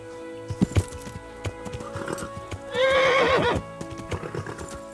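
In the video game Kingdom Come: Deliverance, hooves clip-clop at a steady pace, then a tiring horse lets out a loud, drawn-out neigh before the hoofbeats carry on.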